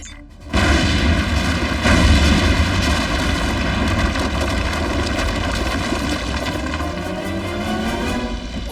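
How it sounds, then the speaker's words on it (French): Fireworks in the Transformers Prime cartoon, opening with a sudden loud boom that settles into a sustained roaring, crackling wash of explosions that fades slowly, with no talking. "prêt à admirer le feu d'artifice"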